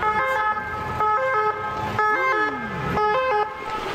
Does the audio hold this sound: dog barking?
no